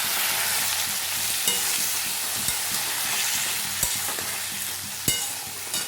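Vegetables, spices and a splash of water for Bengali shukto fry in a pan with a steady close sizzle, broken by occasional sharp scrapes and knocks of a spoon stirring against the metal.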